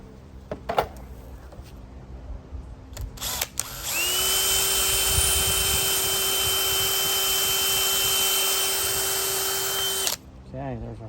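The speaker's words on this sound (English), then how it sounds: "we'll go ahead and drill our pilot hole" A drill bores a pilot hole in wood while building a large chicken coop addition: scattered handling knocks and taps first, then a loud, steady high-pitched whine for about six seconds before it stops.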